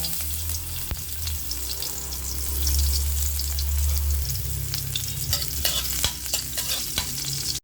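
Garlic sautéing in hot cooking oil in a pan for a chicken dish, a steady sizzle with occasional stirring clinks and scrapes, close and continuous with a low hum beneath.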